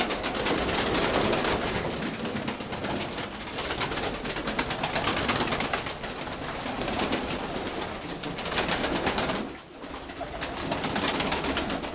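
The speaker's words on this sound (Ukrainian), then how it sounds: "Хочемо продати голубів." Many pigeons held for sale coo in soft, overlapping rolling calls. The cooing is dense and continuous and sounds close, with brief rustling and only a short dip in level near the end.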